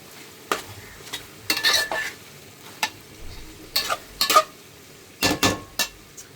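Okra frying in a pan gives a soft sizzle beneath scattered scraping and clinking from a spatula stirring against the metal. The stirs come in short irregular bursts with nobody talking.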